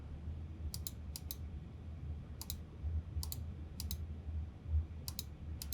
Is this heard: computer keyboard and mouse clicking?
yes